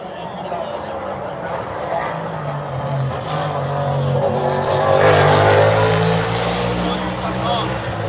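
NASCAR Cup Series race cars roar past on the Charlotte Roval road course during the Bank of America Roval 400, a steady loud engine drone swelling as a car nears and passes, heard from the stands.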